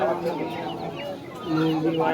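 Chickens cluck close by at a busy village market in Basirhat, short bursts of clucking mixed with crowd murmur and people talking.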